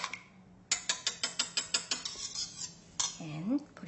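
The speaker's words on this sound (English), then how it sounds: "I'm going to add 1 egg. Beat 1 egg." A fork or whisk beats a single egg in a bowl, a run of about a dozen quick, evenly spaced clinking taps against the bowl, close and clear, followed by a few scraping strokes.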